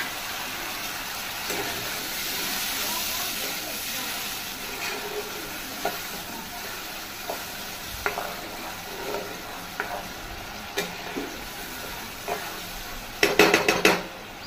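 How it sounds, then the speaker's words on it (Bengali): Spice masala for a tel koi fish curry, fried in a pan with a splash of water poured in from the bowl, gives a steady close sizzle with scraping and clinking stirring, then a brief louder clatter of cookware near the end. "এবার মশলার বাটি দিয়ে কিছুটা জল দিয়ে দিলাম"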